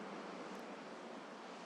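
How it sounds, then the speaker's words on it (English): Ocean waves below rocks roll in a steady, dense wash of surf noise, continuous and fairly loud with no pauses or voices. "Perhaps the waves below have taken on a different quality."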